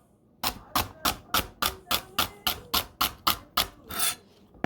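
Heel of a Santoku knife slicing celery on a cutting board, about a dozen crisp, evenly spaced chops in a steady rhythm, close and clear with no talk.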